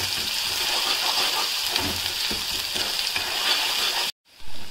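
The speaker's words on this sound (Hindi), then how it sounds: "लहसुन डाल देंगे, इसमें है लहसुन है, अदरक है, मिर्ची हरी और धनिया पत्ती। भून लेंगे अच्छे से" Garlic, ginger, green chili and coriander leaves fry in a pan, giving a steady, close hiss and crackle with faint stirring scrapes, which cuts out abruptly near the end before briefly resuming.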